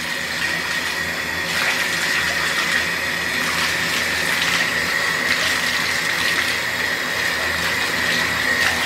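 Water runs continuously from a tap while hair is washed out, a steady rushing gush with slight splashing shifts and no voices.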